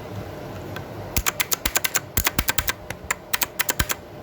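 Typing on a Leaven K550 mechanical keyboard with blue switches: after a quiet start, a run of crisp, close, evenly spaced clicky keystrokes, fairly loud, with a short pause midway.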